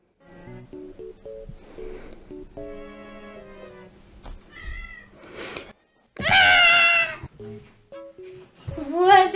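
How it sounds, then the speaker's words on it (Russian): A cat meows over and over in uneven bursts, some calls drawn out and some clipped, with a loud wailing cry in the middle. The sounds are close and clear, and a person talks between them. "ты зачем мяукаешь?"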